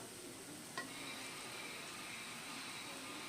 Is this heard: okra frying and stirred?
yes